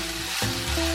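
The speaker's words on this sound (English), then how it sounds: "Stir fry until the eggplant becomes soft." Eggplant being stir-fried in a pan, a loud close sizzle with a brief stirring scrape, running for just a second.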